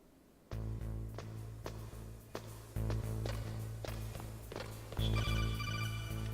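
A phone call rings in the Metal Gear Solid video game. A steady electronic tone repeats over a droning background, and a brighter, higher chime comes in near the end.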